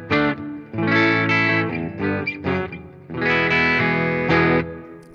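Clean electric guitar run through Zoom G1 amp simulation with amp and reverb effects switched off, strummed chords and picked notes ringing close and clear, with a short pause before a second burst of playing.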